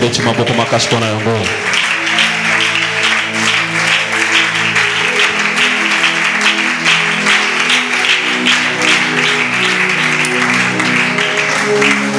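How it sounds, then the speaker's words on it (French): A church congregation applauds during a French sermon, with a dense, sustained clatter of many hands under a voice that carries on speaking and tonal sound throughout. "Nous acclamons pour ça"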